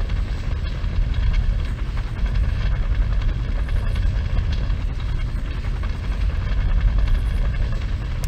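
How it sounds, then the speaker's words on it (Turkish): Helicopter rotors in the video game Far Cry thump loudly and steadily as the aircraft sets down to drop off troops, a dense continuous roar with no voices over it. "Sıçtığımın helikopteri indiriyor onları ya."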